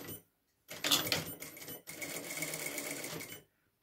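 A sewing machine stitches a cloth face mask tied at the back, two short close bursts of rapid mechanical stitching separated by a brief pause, quiet overall with silence at either end.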